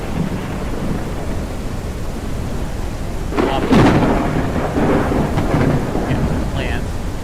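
Thunder cracks and rolls through a lightning storm in the video game Forever Skies. A loud strike bursts midway and a few lesser rumbles follow, over a constant hiss of heavy rain.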